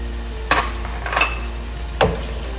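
Fried shrimp tipped into a pan of paella rice base with saffron and mushroom stock, a light sizzle under sharp clinks and scrapes of a utensil against the pan, three distinct strikes spaced across the moment.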